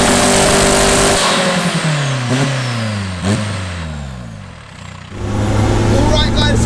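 A VW Corrado with a 1.9 TDI diesel engine and sequential gearbox revs hard on the road, pitch climbing through several gears with sharp shift breaks, loud and close inside the car.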